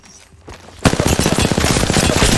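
Wingman pistol fire in an Apex Legends match, starting abruptly after a quiet moment and then a loud, rapid run of repeated shots and impacts continuing to the end.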